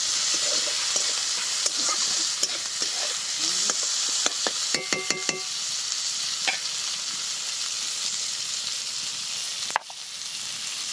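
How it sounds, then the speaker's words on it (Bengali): Chopped onions sizzle steadily in a hot pan, a constant frying hiss broken by a quick run of sharp metallic clicks and scrapes from stirring, with one louder knock near the end. "এবার দিয়ে দিচ্ছি পেঁয়াজ কুচি। পেঁয়াজটাকে আগে খুব ভালো করে ভেজে নেব।"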